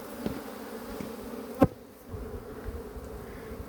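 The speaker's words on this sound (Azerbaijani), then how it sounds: "Bu sarı arı bizde doludur." Honeybees buzz steadily close by at a hive, a continuous droning hum with one sharp knock partway through.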